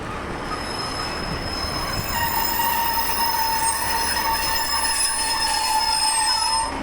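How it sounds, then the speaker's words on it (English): A train rolls past on the rails with a steady rumble and high, sustained metallic wheel squeal, loud and close throughout. "So I'm assuming there's a train coming."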